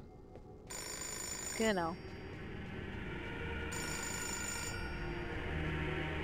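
A telephone rings in the video game Fahrenheit: Indigo Prophecy, with a steady electronic ring tone running through the scene over game ambience, plus a brief rising musical sweep and a short spoken word.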